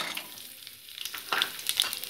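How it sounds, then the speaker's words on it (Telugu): Garlic crackles as it hits hot tempering oil in a pan, with a soft sizzle growing louder as sharp spattering pops burst near the end, no voices. "ఇప్పుడు మనం వెల్లుల్లిపాయలు కూడా వేసేసుకుందాము."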